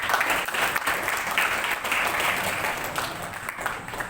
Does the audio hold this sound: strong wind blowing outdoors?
no